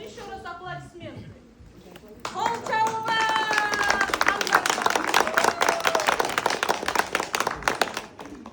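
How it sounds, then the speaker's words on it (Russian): Applause from a group at an inclusive theatre rehearsal: dense, rapid clapping swells in after a pause and continues steadily, close and loud, with voices talking over its beginning. "Покажи еще раз аплодисменты."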